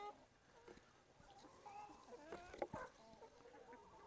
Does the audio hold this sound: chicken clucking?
yes